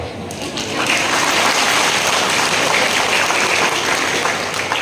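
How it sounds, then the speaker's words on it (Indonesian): Applause at a school student talent event in Tanjungpinang, a dense steady wash of many hands clapping that swells after a moment and holds loud throughout, with some crowd noise mixed in. "apakah snacknya kurang sehingga tepuk tangannya kurang meriah?"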